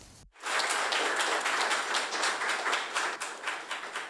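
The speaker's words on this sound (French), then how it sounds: "Un tonnerre d'applaudissements" Thunderous applause from a crowd at a graduation and police honours ceremony in Burkina Faso, dense steady clapping that starts abruptly and stays loud for several seconds before thinning slightly, with no talk.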